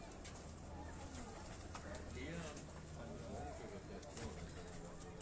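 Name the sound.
pigeons of the taar breed being handled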